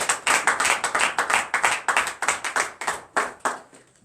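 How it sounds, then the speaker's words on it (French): A small group claps in a regular, rhythmic beat during a morning prayer service in Comè, Benin, a steady run of sharp, close hand claps that fades slightly at the end. "Donnez l'acclamation à Jésus"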